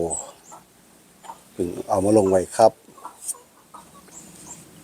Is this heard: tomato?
no